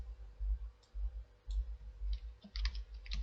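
A malfunctioning computer keyboard gives quiet, irregular clicks and taps, in short clusters over faint low background hum.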